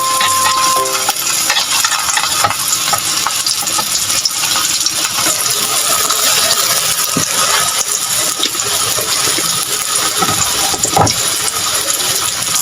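Tofu frying crisply in a pan gives a loud, constant crackling sizzle close up, with occasional utensil clinks and scrapes scattered through.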